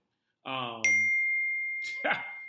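A mobile phone notification sounds once with a clear ding and a lingering steady tone that fades slowly, between a voice speaking just before it and a short voice sound near the end.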